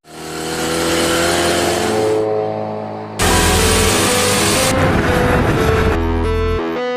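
A Mazda RX-7 sports car engine with a Microtech LT10S engine management system revs hard and loud, climbing in pitch, briefly dropping, then roaring again with sharp high-rpm surges.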